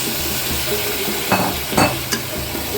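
Chicken frying in a pan for an Andhra-style dish makes a continuous close sizzle, with a few sharper scraping stirs partway through.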